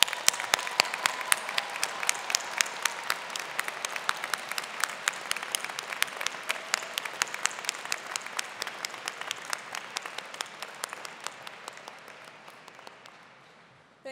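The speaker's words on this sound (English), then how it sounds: "Let's applaud their outstanding performance." An audience at the 2016 Drexel University LeBow College of Business commencement applauds the magna cum laude graduates with steady, sustained clapping that carries on for about fourteen seconds and fades toward the end.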